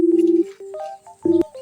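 Phone keypad tones are tapped out before a call, three separate steady beeps, the first and last longer and louder, with a short pause between them and no voices.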